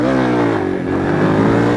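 A motorcycle engine revs hard and steady at close range for a wheelie attempt across a bridge, a loud continuous droning roar with no talk.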